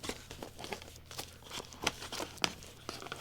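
Plastic packaging and protective foam crinkle and rustle during a keyboard unboxing, a steady run of close, crisp crackles and small snaps with no talking.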